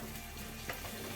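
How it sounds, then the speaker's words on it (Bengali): Marinated potatoes frying in a pan with a little oil are stirred, giving a faint, steady sizzle with a soft scrape of the spoon. "দেখছি আলুটাকে একটু নাড়িয়ে নেওয়া হচ্ছে"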